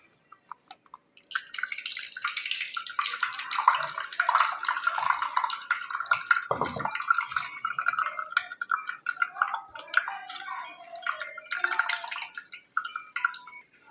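Potato juice strained through a filter into a bowl, heard as a steady, close trickle of liquid with soft dripping. It runs for most of the clip after a brief quiet start, with no talking.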